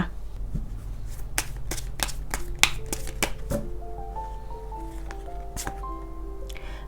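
Oracle cards shuffled for a reading: repeated crisp riffling snaps and flicks in an irregular rhythm, close and fairly loud, over steady soft background music with no talking.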